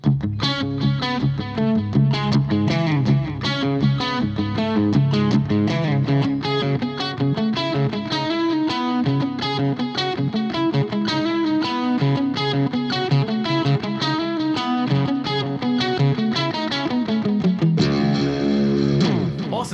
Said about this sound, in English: Now I'm going to change the delay to just a mono.